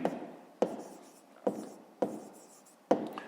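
A pen writes a math solution on paper in five distinct, evenly spaced strokes, each a sharp tap trailing into a short scratch, close and quiet against silence.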